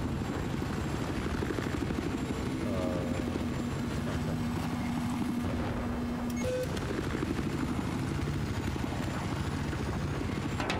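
A jet flies overhead in a Battlefield match, a continuous loud roaring drone dominating the scene with steady intensity and a faint whine threading through.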